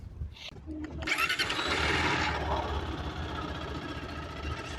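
A Zontes ZT200-C motorcycle engine with about a year of use cranks and catches after a brief click, surging up then settling into a steady, low idle nearby.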